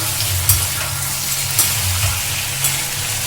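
Potato curry with broken green chilies sizzling in a pan, a continuous close frying hiss over a low hum, with three evenly spaced spatula scrapes punctuating it.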